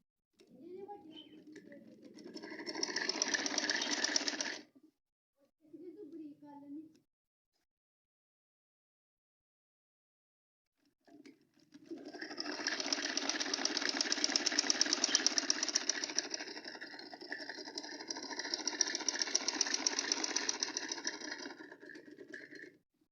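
A sewing machine stitches baby boy's clothes in two runs: a shorter burst, then a silent gap, then a longer steady whirring run, all close up.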